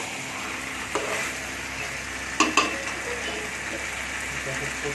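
Chicken fries and is stirred in a pan, a steady sizzle broken by a few sharp scrapes and clinks of the utensil against the pan, with no talk over it.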